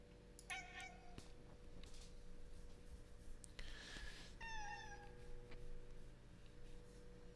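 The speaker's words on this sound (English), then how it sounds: "Demonic cat." A cat meows twice, clearly and close, in short drawn-out cries separated by a pause, with a few faint knocks and a background hum.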